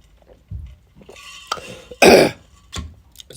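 A man with a bad cough hacks several times, clearing phlegm from his throat, with one loud, rough burst in the middle and smaller coughs and throat noises around it, close and alone.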